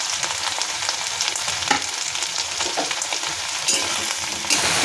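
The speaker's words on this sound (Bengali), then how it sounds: "পেঁয়াজ, আলু, ভেন্ডি এগুলো সব একসাথে ভেজে নেব।" Onion, potato and okra frying together in a pan for a ladyfinger curry: a loud, dense, continuous sizzle with occasional clattering stirs, no voices.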